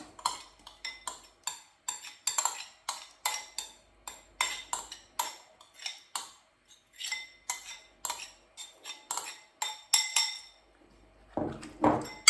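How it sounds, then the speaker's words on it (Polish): Cucumber and radish salad being tossed with sauce in a bowl, utensils clinking and scraping against the dish in a steady series of sharp, close taps, with no talking. "Razem mieszam"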